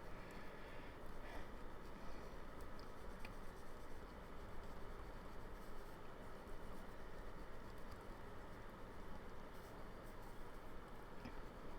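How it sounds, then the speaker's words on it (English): A room electric fan runs with a steady, even broadband whir that holds at the same level throughout, with no breaks and no voices over it. "I'm sorry if you guys can hear my fan"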